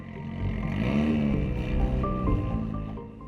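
A passing car's engine rises in pitch and loudness as it approaches, then bends lower as it moves away, a smooth, close Doppler sweep heard alone.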